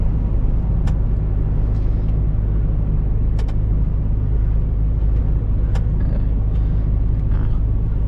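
A truck drives a winter road in Ukraine on an intercity Kyiv–Lviv run, its steady low engine rumble and road noise continuous throughout, with a few sharp clicks or rattles from the cab standing out.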